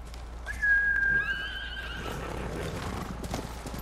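A horse neighs in the video game Ghost of Tsushima, one clear, high whinny near the start, with hooves clip-clopping and a windy blizzard hiss underneath.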